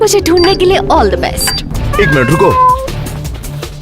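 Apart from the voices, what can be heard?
cat meowing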